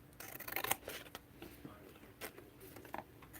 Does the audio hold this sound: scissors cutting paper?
yes